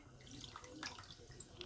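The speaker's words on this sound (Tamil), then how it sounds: "அதுக்கு 1 கப்பு தண்ணி சேர்த்துக்கலாம்." Water poured from a cup into a pan of sugar while making syrup for a bread sweet, a brief soft splash and trickle, faint and close with no talk.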